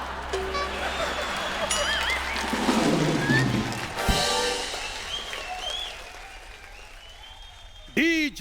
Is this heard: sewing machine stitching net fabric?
no